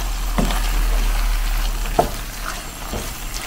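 Bell pepper frying in a pan, a steady close sizzle with a few soft scraping stirs; no talking.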